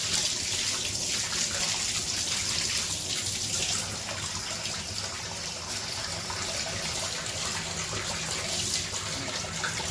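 Hot water runs steadily from a tap during wet tumbling for reloading, a loud, continuous close rushing and splashing that fills the whole stretch.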